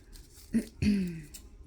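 Scissors snip through layered tissue paper while a paper flower is shaped, giving two short close cuts, the second longer and louder, with no talk.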